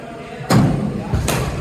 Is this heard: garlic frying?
no